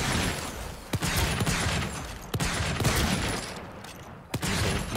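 Gunfire in the game Volcanoids aimed at a tower: several sharp, distinct shots spaced irregularly over a constant loud background wash of noise.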